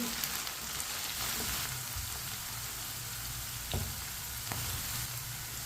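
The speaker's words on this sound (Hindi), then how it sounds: "भिंडियों को ना इसी तरह चम्मच चलाते हुए फ्राई करना है।" Okra (bhindi) fries over medium heat in a pan and is stirred with a spoon: a steady crackling sizzle with occasional sharp metallic scrapes and taps of the spoon.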